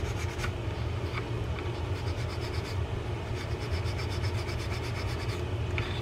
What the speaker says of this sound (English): Use your steel wool or something else to remove the parts that were sticking to the metal washer.